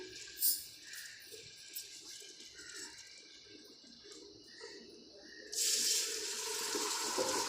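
Chicken stock (yakhni) is poured into a pot for pulao; faint kitchen sounds give way to a steady splashing stream of liquid over the last two seconds.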